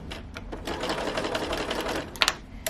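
A sewing machine runs steadily while stitching a sofa slipcover, with a continuous fast mechanical whir and rattle. Near the end it stops and gives a few sharp clicks.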